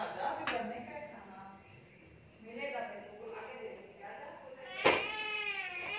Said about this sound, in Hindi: ये हमारा मिन्ना भी तंग कर रहा है, इसको पल पल में कैट फूड चाहिए।